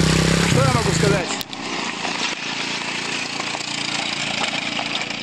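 A motorcycle rides past on a trail in Cambodia, its engine loud and near at first, then dropping off sharply into steady broadband road and wind noise.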